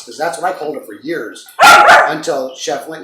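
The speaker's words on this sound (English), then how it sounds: "That's my dog." A pet dog lets out one loud, sharp bark that cuts across someone talking indoors, close to the microphone.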